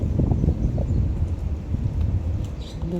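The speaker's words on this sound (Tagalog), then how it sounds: "Ganda ng hangin dito under the tree." Gusting wind under a tree buffets the microphone in a low, rumbling rush, with faint rustling underneath and no voices.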